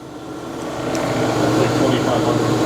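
A TRAK DPMSX3 CNC bed mill, built in 2008, hums steadily as its spindle spins up in high gear, and the whine builds slightly before holding even.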